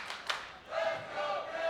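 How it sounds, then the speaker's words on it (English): A wrestling crowd in Charlotte cheers and roars at a live match, a broad noisy swell that rises and holds steady at a distance, with an excited shout near the start. "And now Charlotte is coming alive, getting right behind Kevin Knight"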